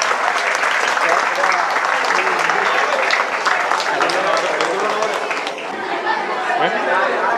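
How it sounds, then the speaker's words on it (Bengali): Students at a school Teachers Day event clap steadily and densely for the whole stretch, a loud crowd of hands close by with chatter mixed in, easing slightly near the end. "তোমরা একটু সবাই হাততালি দিয়ে সম্বোধন"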